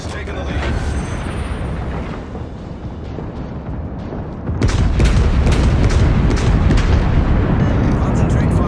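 Battleship guns fire in World of Warships aboard the USS Wyoming (BB-32), an American Tier IV battleship: a dense run of deep, heavy booms that gets louder and fuller partway through, with radio chatter and voices under it.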